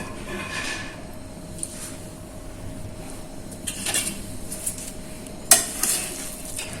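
Veg pulao being gently mixed in a pressure cooker with added ghee: soft scraping and stirring strokes of a utensil against the pot, with a few light metallic clinks, one sharper knock near the end, fairly quiet and close.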